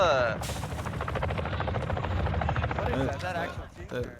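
A helicopter in the video game Warzone 2 thumps loudly with a continuous rapid rotor chop across the whole stretch, while players chat over it.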